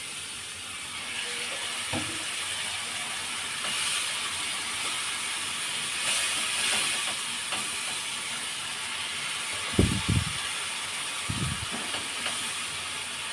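Bengali masala for a bottle gourd and prawn curry simmers after water is added, giving a steady soft hiss throughout, with a few brief knocks near the end.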